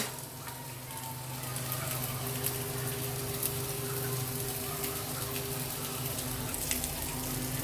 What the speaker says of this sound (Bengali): আমার কাবাবগুলো ভাজা হচ্ছে। এগুলো অল্প বাটার দিয়ে আমি আস্তে আস্তে করে ভেজে নেব।